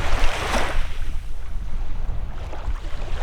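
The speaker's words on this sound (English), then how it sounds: "Like an ocean, you know, you got waves coming in" Gentle waves on a calm Lake Michigan shore beside a pier, a soft rushing wash with a brief swell early on and steady wind noise buffeting the microphone.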